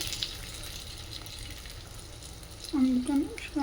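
Fish shallow frying in oil for an Andhra-style fish fry, with a steady, soft sizzle running throughout and a voice speaking briefly near the end.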